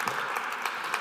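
Audience applause at a water reuse conference, a dense, even wash of many hands clapping throughout the short moment.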